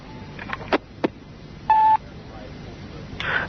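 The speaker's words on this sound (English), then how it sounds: "Yeah, can you ring Bernie, please?" Telephone dialing tones: a single steady beep tone with a few short clicks before it and faint background noise.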